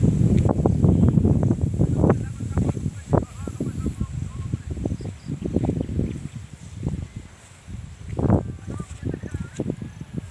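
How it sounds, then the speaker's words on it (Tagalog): Wind buffets the microphone in strong, irregular gusts during stormy weather by the sea, rumbling close and loud, with a voice heard briefly. "So kay hangin diri guys."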